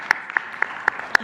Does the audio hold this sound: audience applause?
yes